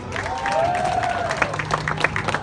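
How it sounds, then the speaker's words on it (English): A street show audience at Barefoot Landing claps and cheers for a few seconds, scattered applause with a rising whoop from one voice, moderately close. "Give yourselves a cheer."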